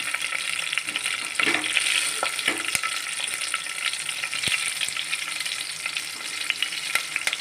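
Steady crackling sizzle of mustard seeds, dried red chillies and curry leaves frying in hot oil, with a few sharp pops and faint scraping, close by and continuous.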